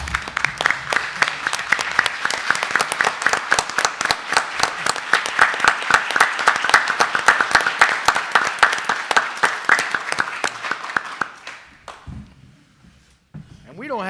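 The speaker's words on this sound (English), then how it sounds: "we all give Michael a standing round of applause." Standing round of applause at a school district board meeting, dense sustained clapping from a room full of people lasting about twelve seconds before fading, with a voice starting to talk at the end.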